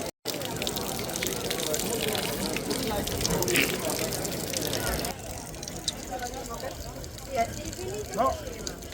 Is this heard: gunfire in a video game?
no